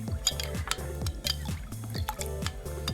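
Buttermilk kadhi mixture with sugar stirred in a bowl, a spoon scraping and clinking against the sides in a steady repeated rhythm, close and fairly loud, with no talking.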